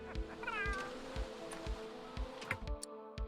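A kitten in The Sims 3 gives a quiet, wavering meow over soft game background music, with faint steady beats and ticks running underneath.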